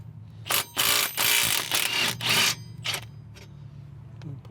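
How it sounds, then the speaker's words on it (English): Ratchet wrench clicking in several bursts as a rusty 14 mm pinch bolt on the ball joint of a 2015 Subaru Outback's front suspension is loosened, loud and close, with fainter clicks trailing off at the end. "Now we'll pull the 14 out for the pinch bolt on the ball joint."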